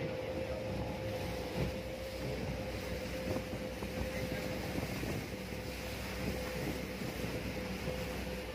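A boat's outboard motor drones constantly on open water heading to Tanjung Datu, with rushing water and wind noise, a steady mid-level roar with a faint whine held throughout.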